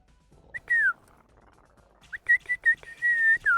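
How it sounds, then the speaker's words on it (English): A person whistles a clear, bright tune, first a single falling note, then after a pause a quick run of short notes leading into a longer held phrase that bends down at the end, close and alone. "I taught myself how to whistle because I felt left out."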